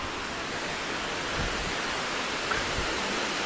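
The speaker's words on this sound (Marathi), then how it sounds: "तर आलो आहे आम्ही आता धबधब्याच्या जवळ, धबधब्याच्या इकडे." Steady, broadband rushing water from a small waterfall in rainy Konkan, Maharashtra, constant and fairly close, with no voices.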